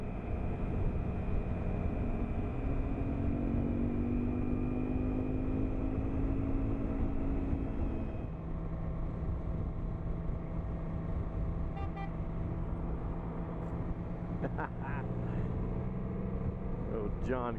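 A group of motorcycles rides together on the road to Jabal Akhdar, their engines blending into a continuous drone with a rising tone that shifts midway, while a voice talks over the ride.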